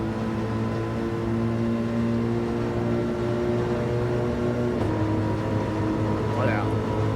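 A Subaru BRZ engine in Gran Turismo 7 drones steadily during a Manufacturer Cup race, a constant sustained tone that shifts pitch once midway as a gear changes, with a voice talking over it.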